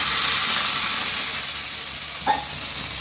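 Water poured into hot oil tempered with mustard seeds and green chilies for dhokla gives a loud hissing rush of steam that slowly softens, with one brief clink near the end.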